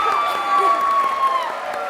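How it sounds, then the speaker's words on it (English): Delegates at a Model UN session clap and cheer together in a steady, loud wash of crowd noise, with voices mingling throughout. "Everyone will clap."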